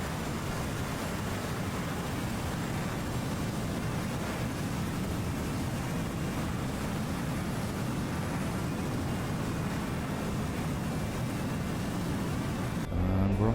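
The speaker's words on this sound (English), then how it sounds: "we're just going to go full afterburner here and get off the ground" Jet fighter taking off on full afterburner in a complex flight simulator: a steady, loud, broadband engine roar holding constant and close, swelling slightly louder right at the end, with no talking.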